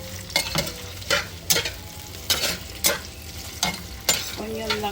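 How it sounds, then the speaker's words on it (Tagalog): Chopped onion and ginger fry and sizzle in a hot pan, with repeated stirring scrapes every second or so over a continuous hiss, close up and alone. "Tapos lagay na natin yung onion, luya, at saka bawang."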